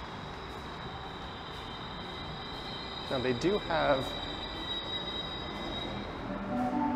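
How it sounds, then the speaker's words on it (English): A GO commuter train rumbles steadily into a station with a faint high whine, while someone speaks briefly over the passing cars. "There's the GO train rolling in."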